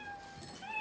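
A short, faint cat meow sound effect plays from a homemade cat crossing, one thin electronic mew.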